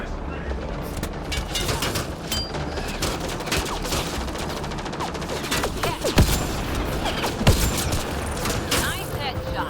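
Rapid bursts of gunfire from a Mass Effect Andromeda firefight against Kett, dense and continuous with sharper shots standing out, while talk runs over the shooting.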